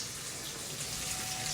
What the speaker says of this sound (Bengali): সেই রকম আন্দাজ মতন জল দিয়ে দিতে হবে